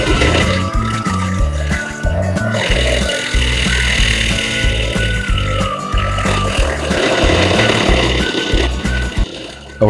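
A Vermeer SC30TX stump grinder chews into a tree stump, its engine roaring loud and continuous with rough, churning grinding layered over it the whole time.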